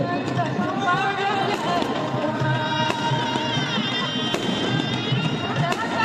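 Fireworks crackle and pop in the sky during Chhath Puja festivities, a steady scatter of sharp bursts over crowd noise while a voice speaks throughout.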